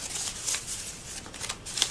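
Sheets of paper for a handmade collage are folded and creased close by, giving crisp rustling and crackling in quick irregular bursts, with no talking.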